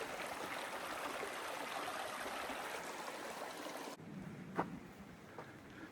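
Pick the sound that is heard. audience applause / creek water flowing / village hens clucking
creek water flowing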